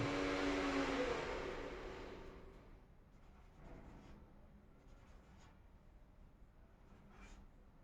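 Writing on a board during a Hindi grammar lesson: a burst of broad hiss at the start, then a few faint, scratchy strokes spaced out over several seconds, with no talking.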